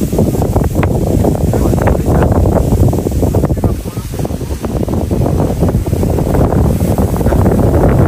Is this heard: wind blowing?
yes